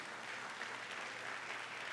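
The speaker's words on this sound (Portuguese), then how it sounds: "Dê um aplauso ao Senhor por isso." A church congregation claps together in a steady, dense wash of applause, fairly soft and distant, with no talk over it.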